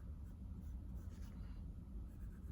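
A fountain pen nib with Gabon ebony and paua abalone scratches figure eights onto paper, a faint continuous rasp under a low background rumble.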